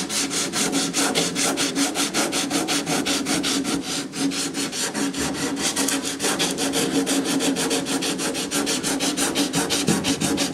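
Wood being hand-sanded with 100 grit sandpaper, shaping a curve near an exhaust pipe area: steady, fast back-and-forth rubbing strokes, close and loud, continuing evenly with no voices.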